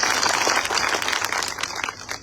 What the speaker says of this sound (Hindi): ऐसे सम्माननीय सुनील बैरसिया जी के लिए आप सब जोरदार तालियां बजाएं।